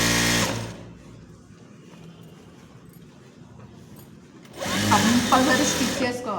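A sewing machine stitches palazzo pants, running in a loud, steady whir at the start and again near the end, with a quieter stretch between the bursts.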